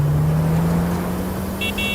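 A car drives off on the road, its engine holding a steady low hum that rises slightly in pitch as it pulls away, with a brief faint higher tone near the end.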